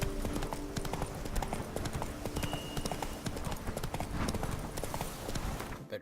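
Hooves of the horse Roach pound in a steady galloping rhythm in The Witcher 3, loud and continuous for the whole stretch, with no speech over them.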